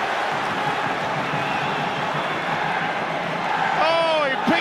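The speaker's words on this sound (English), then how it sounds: "Listen to this crowd." A big rugby league stadium crowd roars steadily at Wigan versus St Helens, a loud sustained wash of cheering that swells near the end with whoops and shouts, while a commentator talks over it.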